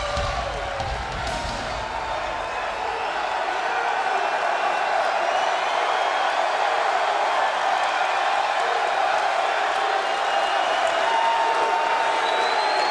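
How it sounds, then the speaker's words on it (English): Capacity arena crowd at a WWE Raw event roaring to welcome Brock Lesnar home, a dense, steady wall of cheering and whoops that holds loud throughout. "Capacity crowd has turned out to welcome Brock Lesnar home."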